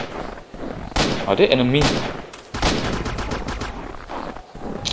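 Sharp gunshots crack in quick bursts during a firefight in the shooter game Z.O.N.A Shadow of Limansk Redux, with soldiers firing close by while someone talks over the shooting.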